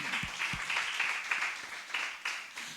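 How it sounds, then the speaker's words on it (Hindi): Scattered hand clapping from a church congregation, thin and fairly quiet, with a few irregular claps standing out over the soft applause. "ताली बजाए प्रभु"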